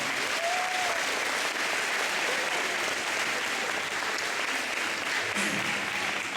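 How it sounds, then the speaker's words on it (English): A large audience at a school financial literacy event gives teachers sustained applause, a thick, even roar of clapping held at steady loudness for several seconds. "Let's give our teachers a big round of applause as well"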